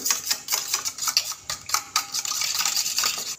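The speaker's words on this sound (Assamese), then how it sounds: "আমলেটৰ কাৰণে নিমখ হালধিটো ইয়াতে মিলাই দিছোঁ জোখমতে আৰু এইখিনি ভালদৰে ফেটি লওঁ" Eggs beaten with salt and turmeric for an omelette, a fork clicking rapidly and rhythmically against the bowl in quick, close taps with no pause.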